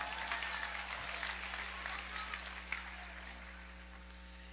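Applause from a crowd at a live awards event after a dunk, a sustained clapping wash that gradually thins and fades over a steady background hum, with a few sharp individual claps.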